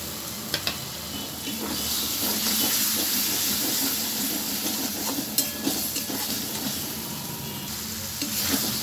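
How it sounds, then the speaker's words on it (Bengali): A spice paste of tomato and turmeric fries in a pan with a loud, steady sizzle, broken by scraping stirs and a few sharp clinks of the spoon against the pan. "মশলাটা আমি খুব সুন্দরভাবে কষিয়ে নিলাম।"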